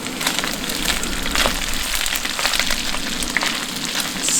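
Cheesesteak meat sizzles steadily on a cooktop at a campsite, a dense, close crackle of frying with faint pops and no talking over it.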